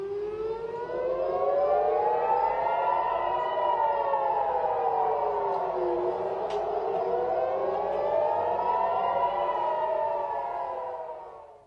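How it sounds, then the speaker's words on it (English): Air raid sirens wailing across Tel Aviv, Israel, long rising and falling tones repeating in slow overlapping waves, loud and sustained with no other sound. "More air raid sirens just moments ago ringing out in Tel Aviv"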